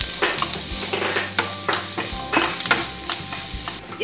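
Onions hit hot oil in a kadai for restaurant-style kadai paneer, a steady sizzle running under clinking, scraping strokes of the stirring spoon, close and moderately loud.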